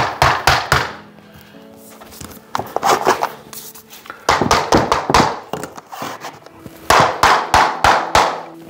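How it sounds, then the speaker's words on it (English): Loud bursts of pounding as a vinyl plank flooring joint is hammered down, sharp knocks coming in quick clusters with short pauses between them, close by and with no talk. "now I'm committed to pounding the joint down"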